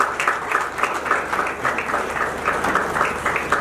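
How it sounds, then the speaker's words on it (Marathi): Audience clapping loudly at a memorial remembrance ceremony, dense sustained applause from a crowd with sharp overlapping hand claps holding steady throughout. "त्यांच्यासाठी जोरदार टाळ्या असू द्या."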